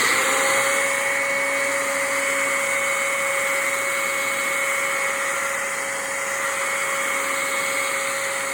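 A coffee grinder grinding extra fine for espresso, pressed down by hand at home: a loud, steady, high-pitched whine with an unbroken droning tone that holds for the whole stretch, close and alone.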